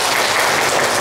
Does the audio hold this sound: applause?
yes